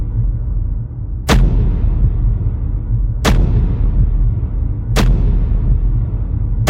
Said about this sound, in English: It's a big car explosion